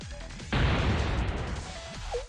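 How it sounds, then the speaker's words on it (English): A single heavy crashing mortar shell blast in the video game Blue Archive bursts in and rumbles for over a second, with a humming, wailing tone around it. "We're getting bombarded."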